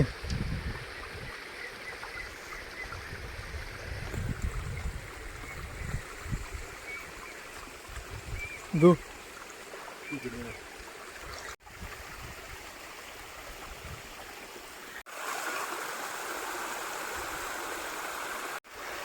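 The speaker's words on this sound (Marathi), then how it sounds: "वड्याला पाणी बऱ्यापैकी सुटलंय कारण रात्रभर पाऊस पडलाय त्यामुळे एवढं पाणी आहे" A stream swollen after a night of rain flows steadily, a soft continuous rushing with a few splashes and bumps, growing brighter and louder near the end.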